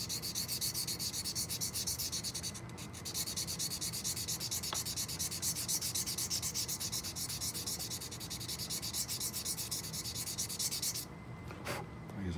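A glass crystal clarinet mouthpiece is rubbed on 300 grit sandpaper, a steady, continuous close-up scratching hiss that runs almost without a break before stopping briefly near the end.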